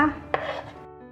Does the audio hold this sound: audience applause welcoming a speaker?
no